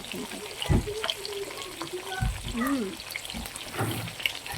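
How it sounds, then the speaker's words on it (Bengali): Fish frying in hot oil in a home kitchen, a close, fairly quiet crackle and sizzle with scattered spatters and a few sharp knocks, with a voice murmuring faintly in places. "মাছগুলোকে ফুটে যাচ্ছে"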